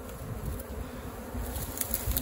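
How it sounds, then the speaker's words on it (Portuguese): A swarm of Apis honey bees buzzes steadily around a termite mound in an open pasture, a dense, continuous drone up close with no talk. "Agora eu vou levar muita abelha"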